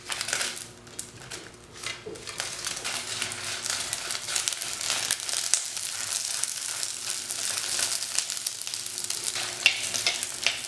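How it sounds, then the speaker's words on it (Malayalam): Dried red chillies fry in a spoonful of oil in a pan, a steady close sizzle with scattered crackles and stirring scrapes throughout, no talking. "അതിലേക്ക് നമ്മൾ എടുത്ത് വെച്ചിരിക്കുന്ന മുളകെല്ലാം ഒന്ന് ഇട്ട് വറുക്കണം"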